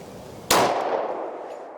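A single 10mm pistol shot at a bowling pin: one sharp, loud crack that rings out and decays over about a second in open air.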